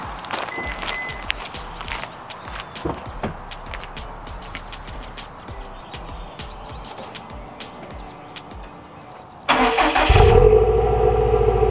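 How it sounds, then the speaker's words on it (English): A Subaru WRX STI makes a cold start. After a stretch of low background noise with small clicks, the engine cranks and catches abruptly, then settles into a loud, close idle. "I'm gonna get you guys a quick cold start."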